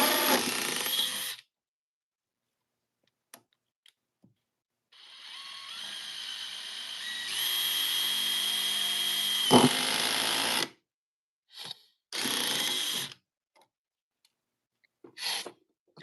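A DeWalt power tool running on a smaller battery whirs in several bursts of differing length with silent gaps between, the longest lasting a few seconds, close and fairly faint.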